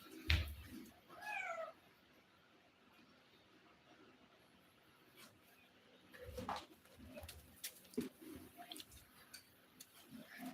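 A pet kitten gives a few faint, short meows in a quiet room, one near the start and more scattered toward the end, with soft background noise between them.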